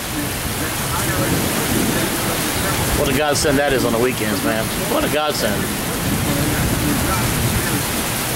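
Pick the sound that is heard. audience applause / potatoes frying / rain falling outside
rain falling outside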